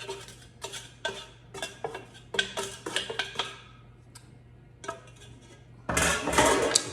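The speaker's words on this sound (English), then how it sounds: "Scrape up some of that good onion, a little bit of that Texas Pete's" A utensil scrapes onion and Texas Pete's hot sauce around a dish, giving a run of quick clinks and scrapes in uneven bursts, then a louder, denser rasp at the end.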